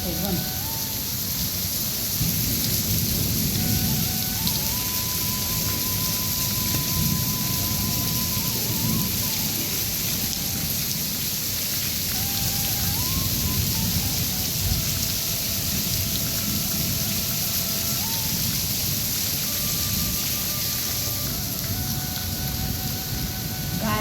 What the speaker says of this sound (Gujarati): એટલો તોફાની વરસાદ છે